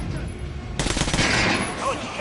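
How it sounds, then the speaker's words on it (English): Rapid automatic gunfire from a video game weapon aimed at a training dummy, a dense burst starting about a second in and sustained loudly to the end over faint ambient background. "Try shooting for the center of the regular dummy's chest."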